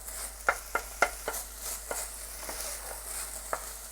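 Ground meat stir-frying with garlic scapes, garlic chives and pepper in a pan, soft steady sizzle under repeated light scrapes and taps of a spatula, close and fairly quiet with no talk.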